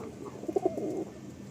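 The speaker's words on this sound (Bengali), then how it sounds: "খুব সুন্দর একটা পেয়ার সামনে হচ্ছে ফিমেল চোখের পায়রা" Pigeons in a loft, eyed pigeons kept as a pair, give a brief low cooing phrase of a few pulses over a muffled background hum.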